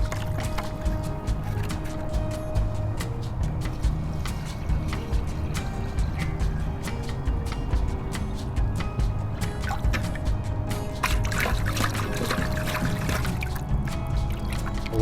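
Water pours steadily into a container of natural clay slurry, a continuous close gurgling and splashing fill that runs throughout without pause.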